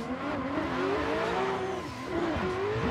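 A drift car accelerates hard over the finish line of a Finnish Drift Cup event, its engine roaring loud and steady with the pitch wavering as the revs rise and fall.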